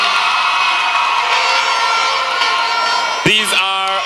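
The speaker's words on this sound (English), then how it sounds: "Give them a round of applause," An audience at a Miss Universe Belize pageant cheers and applauds as a top-five finalist is named, a dense roar of clapping and whoops that ends in a sharp shout near the end.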